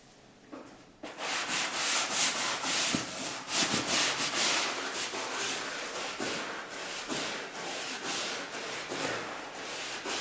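A brush scrubs leather with repeated bristly rubbing strokes, close and fairly loud, in an irregular back-and-forth rhythm after a quiet start.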